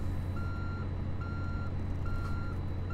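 A truck in American Truck Simulator backs up a trailer, its reversing alarm giving three steady, evenly spaced beeps over a constant low engine drone, with no talk.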